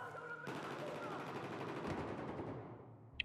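Dense automatic gunfire erupts suddenly in a Battlefield 4 match on the Golmud Railway map, a sustained loud rattle of overlapping shots that tapers off, ending with one sharp crack.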